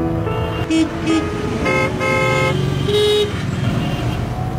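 Car horns honk repeatedly in busy street traffic after arriving by taxi, short toots and longer blasts overlapping over a steady engine and road rumble throughout.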